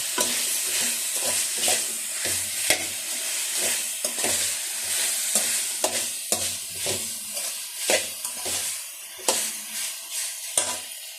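Chicken necks frying with turmeric powder in a pan, a steady sizzle broken by repeated stirring scrapes in an uneven rhythm, close and fairly loud with no voices.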